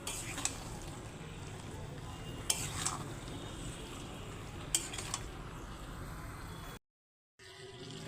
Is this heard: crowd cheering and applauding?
no